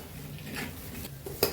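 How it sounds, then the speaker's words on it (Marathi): Turmeric and onion-garlic masala are tipped into a pan while cooking puran poli, giving a short spell of soft scraping and stirring capped by a sharp clink of a spoon against the metal pan. "त्यानंतर हा मी हळद आणि कांदा लसूण मसाला ॲड करते."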